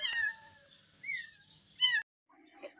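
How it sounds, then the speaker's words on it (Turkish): A street cat left abandoned outdoors meows plaintively in several clear calls, one long drawn-out cry and a couple of shorter ones, close and fairly loud with quiet pauses between. "Sokağa terk edilmiş bir kedi."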